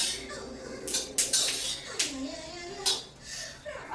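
Peanuts are dry-roasted in a pan in a home kitchen, producing intermittent rattling clinks and scraping strokes at close range, with a voice speaking softly in the background.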